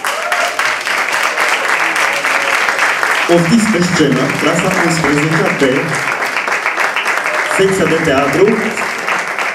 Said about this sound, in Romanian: Clasa 11 în aplauzele noastre.